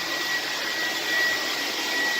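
A vintage 1970s Air Way Sanitizor Mark V vacuum cleaner runs in a kitchen with a steady, loud, high-pitched whooshing roar and a thin whine, continuous and close, with no talk.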